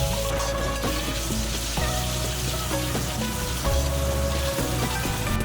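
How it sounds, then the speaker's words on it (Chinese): Cured pork frying slowly in a wok over medium-low heat, its fat rendering out in a continuous dense sizzle that holds steady throughout, close and fairly loud with no speech. "把腊肉倒入锅中，中小火慢慢煸出腊肉多余的油脂。"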